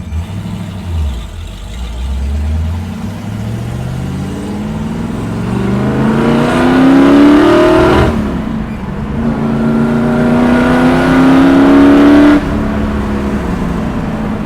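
A 1965 Ford Mustang drives past close by, its V8-style engine revving and rising in pitch through two acceleration pulls, loud and throaty, with no talk.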